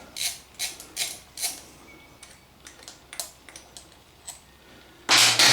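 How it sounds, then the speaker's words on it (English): The last bolt being worked off the cover of a 1983 Honda CBX 550F, close, sharp ratcheting clicks in short irregular bursts, ending in a sudden loud rush of noise. "So anyway, get this last bolt off."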